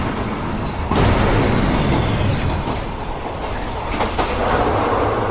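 A train running fast on rails, a loud close rumble with a thump early on, a brief high wheel squeal, and continuous rattling of the carriages.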